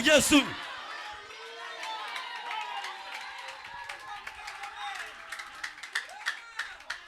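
A church congregation at a Sunday blessing service claps and cheers: a sharp burst of applause opens, then raised voices and chatter carry on, with quick rhythmic hand claps picking up toward the end.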